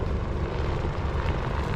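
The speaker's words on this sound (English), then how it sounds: "as we heard the helicopter come close, then disappear" Rescue helicopter near the summit of Mount Taranaki, a steady low engine and rotor rumble that stays constant and fairly strong throughout, with no voices.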